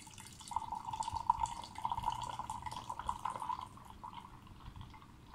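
Rinse water being poured off tea leaves, a thin steady trickle of liquid running for a few seconds, quiet and close, then tapering to faint drips.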